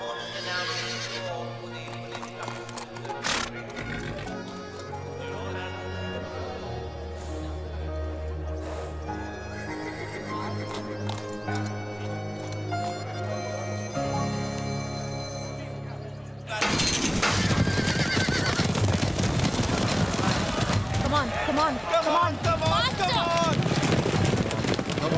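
Racehorses gallop and neigh during a horse race, with hooves clattering and whinnies rising over music-like tones. The sound then turns into a loud, dense rush of pounding hooves and shouting voices.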